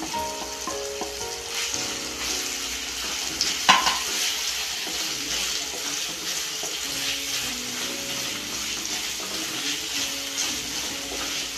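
Sliced onion and three slit green chillies frying in a pan for Kerala-style fish curry, a continuous sizzle with stirring clatter and a brief louder knock near the middle, close and without talk.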